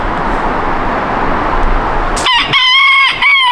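A rooster crows loudly and close, a long strained cock-a-doodle-doo rising out of a steady broadband background rush in the second half, with no voices.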